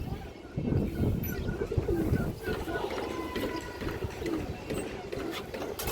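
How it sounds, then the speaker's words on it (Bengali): Female pigeons coo softly in a loft under steady nearby chatter, their low murmuring calls blending with someone talking over them throughout. "মাদি কৌতর মাসাল্লাহ অনেক সুন্দর কৌতর"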